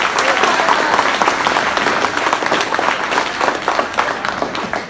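Loud, dense applause from an audience at a Hindi comedy show, many hands clapping close together in a sustained burst, with some speech mixed in.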